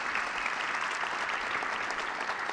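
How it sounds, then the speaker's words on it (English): Steady, dense applause from a conference audience at a startup community event in Europe, sustained and even for the whole stretch with no pauses. "Can we give a big round of applause for these people for making this thing happen?"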